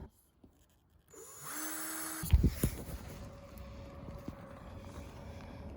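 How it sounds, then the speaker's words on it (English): A power drill whirs up close and bites through a van's metal roof with a loud grinding burst, then keeps spinning steadily as it cuts. "I'm gonna drill a hole in the top of my van"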